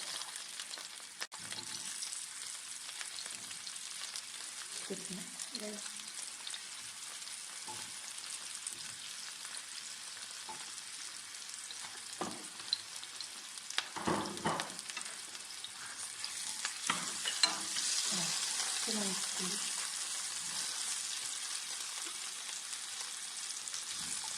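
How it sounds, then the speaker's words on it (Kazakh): A steady sizzle of carrots and peppers frying with chicken in a pan, with scraping and stirring noises now and then, growing a little louder toward the end. "Енді осыған сәбізімізбен перісімізді салып қуырып аламыз."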